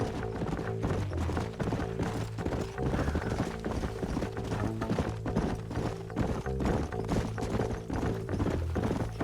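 Horse hooves clip-clop in a fast, dense rhythm in the video game Red Dead Redemption, with several horses riding together, loud and continuous alongside a music score and a brief whinny.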